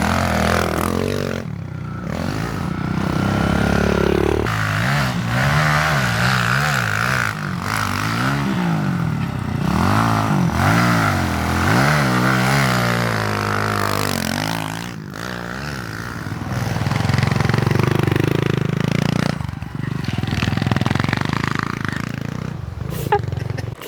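Pit bike engine idling roughly in snow, close by and close to stalling, with an uneven, sputtering pitch that rises and falls over about 24 seconds; voices talk over it at times.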